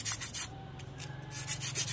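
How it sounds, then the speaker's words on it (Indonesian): Coarse sandpaper, grit 100 to 120, rubbing across a coconut shell surface, making a series of scratchy, rhythmic strokes close by, with brief pauses between passes and no voices. "Lalu kita amplas permukaan batok sampai benar-benar halus."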